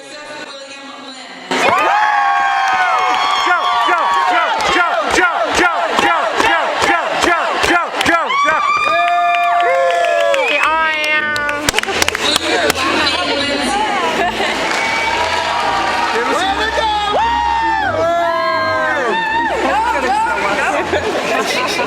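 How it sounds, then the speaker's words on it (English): Fight crowd cheering and chanting in a loud, dense roar of voices, with rhythmic shouted bursts early on giving way to sustained sung chanting and hubbub throughout. "with his cheering section in the crowds, it was time to make some noise"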